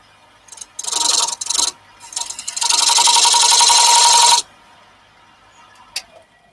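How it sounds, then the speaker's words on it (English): Tools are sharpened in a workshop with a loud, rasping, abrasive scrape: a few short strokes, then a long steady pass of several seconds, ending in near silence and one final brief scrape, with no talking. "Robo's out sharpening tools, Chris."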